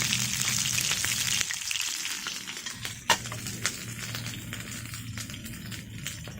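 Chicken legs pan-fry over a campfire with a continuous crackling sizzle, a few utensil knocks and scrapes rising above it, and no one talking.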